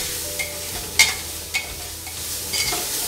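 Spices and turmeric fry in oil while a spoon stirs them in a pot for soybean masala rice, a close steady sizzle broken by a few sharp scraping clinks.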